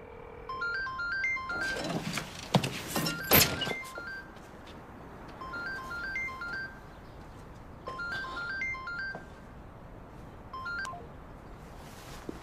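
A phone goes unanswered while electronic ringing tones repeat in short bursts at steady intervals, fairly faint, broken once by a few knocks and clatter near the start, with no talk.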